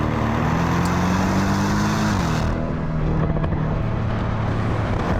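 Porsche 718 Boxster S engine droning steadily as the car climbs a mountain road, a low continuous hum with a pitch shift partway through, loud and close throughout.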